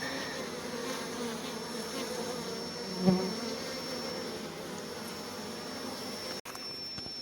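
Honeybee foragers buzzing steadily as they return during removal of a colony from a chimney, a dense close swarm hum with a brief thump partway through and no talk.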